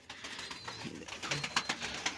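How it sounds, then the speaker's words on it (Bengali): Adult pigeons, including a Telmark pair, fill a home loft with soft close cooing and rustling, a few low coos rising over the murmur. "এই যে এটা আমার ধাড়ি পায়রার লফট"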